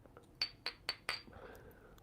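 Glass shot glasses clink together four times in quick succession, sharp bright taps close by, followed by a faint rattle.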